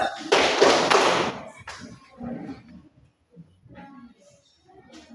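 Pupils in a classroom clap hands for an ice-breaking clap game: a short, loud burst of rhythmic clapping, then faint voices and scattered soft sounds.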